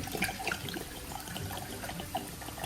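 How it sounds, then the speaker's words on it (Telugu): Water splashes and gurgles into a bowl for a raw tamarind lentil dish, a short, quiet continuous pour with small bubbly splashes, no voices. "ఫస్ట్ నీళ్ళు ఇందులో వేసేసుకొని పప్పు ఇందులో వేసేసుకొని"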